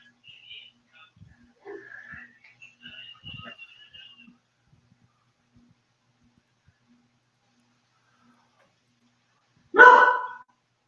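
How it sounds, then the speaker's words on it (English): A dog barks at rabbits, one short loud burst near the end after a long stretch of faint scattered sounds and quiet. "There goes my dog barking at random freaking rabbits."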